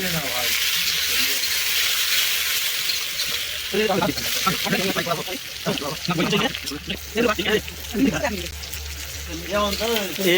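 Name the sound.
frying onions in a pot for picnic cooking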